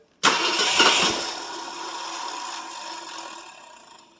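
A 1967 Ford LTD two-door with a 390 FE V8 sits after twelve years and cold-starts: a sudden crank-and-catch burst settles into a rough, steady idle that slowly fades, close and loud with no talking.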